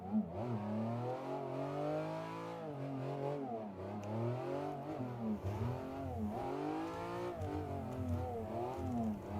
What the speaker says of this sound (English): Oh, third's too high, car's dying.